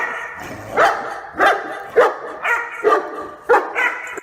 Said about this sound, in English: the Rhodesian, right, is the deeper bark.